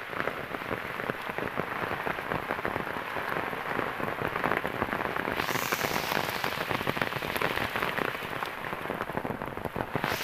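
Heavy monsoon rain pours down on a village in rural Bengal, a dense, constant hiss of drops drumming on surfaces, close and unbroken throughout, with no talk.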